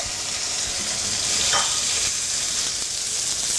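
Pork fillet sizzling in smoking-hot olive oil in a non-stick pan, a steady close hiss of frying with a brief louder spit near the middle, no voices.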